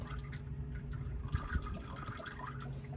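Engine oil drains from the drain plug of a 2019 Gulf Stream Conquest 6320 RV, a steady trickling, dripping stream of liquid with no one speaking.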